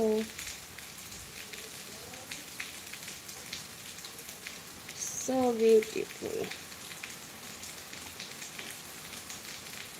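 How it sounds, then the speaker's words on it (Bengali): Heavy rain pours down steadily outdoors, a continuous broadband hiss running the whole time, while a voice speaks briefly over it partway through. "আজকে হেভি বৃষ্টি হচ্ছে"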